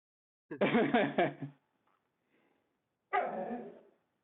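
A dog barks in a home during a remote town meeting, a burst of several quick barks followed after a pause by one longer bark, close and fairly loud with no talk.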